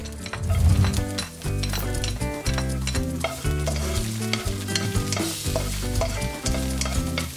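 Garlic sautéing in a little olive oil in a pan, sizzling and frying steadily for several seconds with stirring and occasional utensil clinks against the pan, loud and close.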